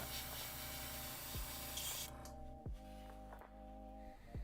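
Water sprayed through an airbrush to clean it out gives a steady hissing spray that cuts off partway, followed by a buzzing compressor hum broken by several short sharp clicks, with no voices.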